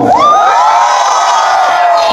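A large crowd at a rally shouts and cheers together in one sustained, loud roar that swells at the start and holds throughout.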